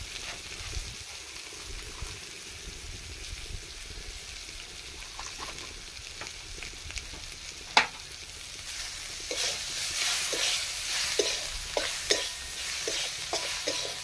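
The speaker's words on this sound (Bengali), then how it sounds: "এই মশলাগুলো একটু ভেজে নিবে" Spices with Kashmiri chili powder fry in a pan for an evening dinner curry, giving a steady soft sizzle with occasional stirring scrapes and clicks that grow a little busier toward the end, with no voices.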